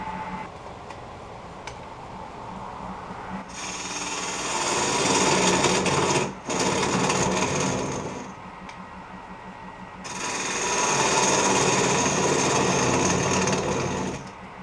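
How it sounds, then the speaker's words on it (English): Wood lathe fluttering because a knockout rod was left in the spindle while turning a long tool handle: two sustained bursts of loud, rough whirring and rattling, separated by quieter idle with faint ticks, no speech. "That fluttering noise is when I leave my knockout rod in the spindle."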